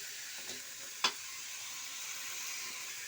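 Bottle gourd and shrimp fritters sizzle steadily in a hot pan, with a sharp scrape of stirring about a second in and a continuous frying hiss throughout, no voices.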